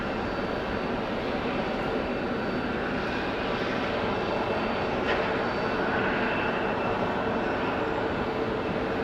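An Airbus A220 airliner sits ready for departure on a rainy runway at Raleigh-Durham International, and its engines give a constant, loud broadband roar that stays level for about nine seconds with no voices.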